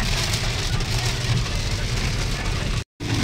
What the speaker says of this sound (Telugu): ఫుల్ అంటే ఫుల్ వర్షం పడుతుంది డాడీ